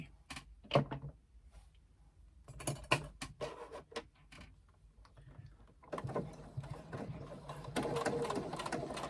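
A domestic sewing machine bastes along the bottom edge of tote bag fabric in short bursts, with knocks and handling clatter in between, then a longer steady run toward the end.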